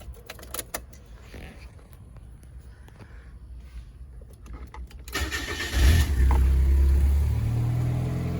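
Small clicks and key rattles, then a Mazda Miata engine cranks and catches, settling into a loud, steady idle close by.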